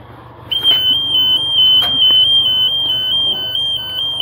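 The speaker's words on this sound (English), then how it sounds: "Alarm is going off." A Niftylift HR12 aerial lift with fault codes sounds a steady, high-pitched electronic alarm tone that starts about half a second in and holds continuously at close range, with faint background noise.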